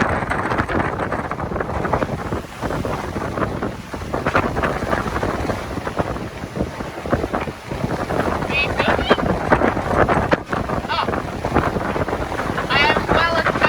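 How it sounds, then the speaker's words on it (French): Sailboat racing at high speed across the open ocean, a constant roar of wind buffeting the microphone over rushing water and hull thumps, with scattered voices and brief clatter in the mix. "On va regarder Jade sur son bateau à toute allure."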